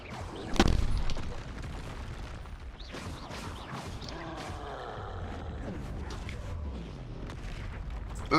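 Confringo blasting spell explosions in Hogwarts Legacy on Nintendo Switch: one sharp blast near the start, then a steady jumble of further booms and crashes with game effects throughout.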